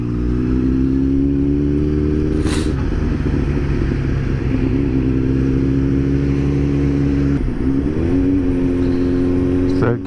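Suzuki GSX-S 750 motorcycle with a custom-tuned Power Commander 5 pulls through the gears, a loud, steady engine drone rising in pitch with a brief dip at a gear change; a rider talks over it.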